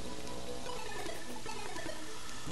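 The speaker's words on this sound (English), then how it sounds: "Considering it's still raining, even though it's in the afternoon in game" Steady rain pours in the Terraria video game, a dense, even hiss that fills the whole stretch without pause or speech.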